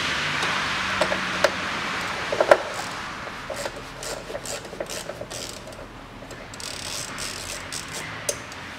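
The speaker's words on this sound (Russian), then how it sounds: "Откручиваю болт крепления катушки" Ratchet loosening the mounting bolt of a car ignition coil, with quick, close metallic clicks and ticks in short uneven bursts over faint background noise.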